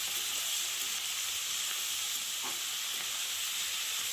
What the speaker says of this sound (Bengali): পেঁয়াজকলিটাকে আমি ভালো করে ভেজে নেব